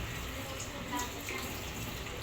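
Water running and splashing over frozen fish in a basin, a steady faint trickling wash with no break, heard alone at low level.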